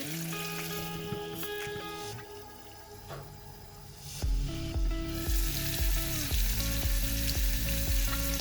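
Chopped tomatoes cook under a closed lid in a pan, giving a steady sizzle with background music that grows louder and fuller partway through.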